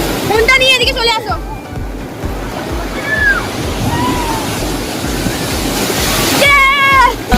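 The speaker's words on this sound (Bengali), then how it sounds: "তো তোমাদের একটু ঢেউগুলো দেখাই ভালো করে।" Ocean surf at Puri beach rolls in as a continuous loud wash of breaking waves, with people talking over it at the start and end.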